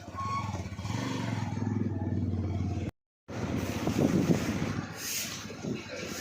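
A motorcycle engine hums steadily while riding, with wind rush and road rumble; a brief gap of silence midway, then the ride continues.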